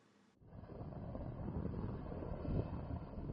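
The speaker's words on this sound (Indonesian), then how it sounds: "Pemadaman dengan menggunakan helikopter atau waterbombing" A waterbombing helicopter flies over a burning peatland in Ogan Ilir, giving a steady, broad rotor and engine rumble that starts abruptly and stays loud and continuous, mixed with wind.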